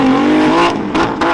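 A tuned Nissan Patrol SUV with a Carbon Motec standalone engine management system launches hard at a drag event, its engine revving loud and close in a rising, sustained roar.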